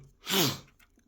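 A single close sneeze, a sharp breathy burst that fades quickly, with a short sniff after it.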